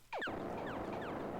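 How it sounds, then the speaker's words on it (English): A missile exploding on impact in a Space Invaders-style video game: a sharp downward zap followed by a sustained noisy crackle with faint chirping sweeps, loud and continuous, with no talking. "the missile exploding when it hits something."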